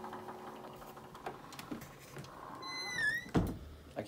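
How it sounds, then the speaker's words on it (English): A heavy door in the Abbey Road studios swings shut with a dull thunk near the end, after quiet room ambience and a brief creaky squeal, close and moderately loud. "Oh, that's a heavy door."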